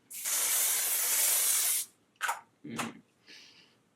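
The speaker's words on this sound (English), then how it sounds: "I'm going to go ahead and prime using the Dior Airflash Radiance Mist" Dior Airflash Radiance Mist is sprayed onto the face as a primer, a loud hissing burst lasting over a second, followed by a few brief softer sounds.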